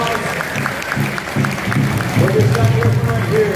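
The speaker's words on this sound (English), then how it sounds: "How about a big round of applause?" An audience at a powwow applauds a consolation prize winner, with dense clapping and crowd noise that builds over a few seconds while voices carry alongside it.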